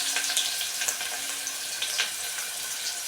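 Onions fry with cumin in a pan, giving a steady, close, bright sizzle with small crackles throughout and no talk.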